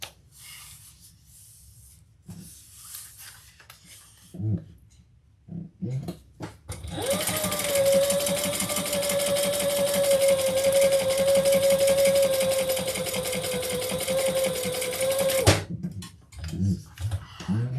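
Sewing machine top stitching a fabric bag: a few soft handling knocks, then a loud, even, close mechanical whirr running about nine seconds before stopping, followed by light rustling.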